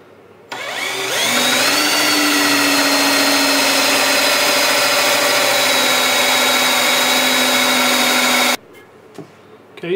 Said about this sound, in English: Okay, so 2 dowel holes drilled in the side piece.